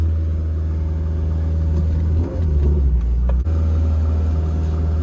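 Dodge Shelby Turbo Daytona Turbo Z, rebuilt and losing coolant, pulls away with a loud, steady low engine rumble that dips briefly twice, close by with no talking.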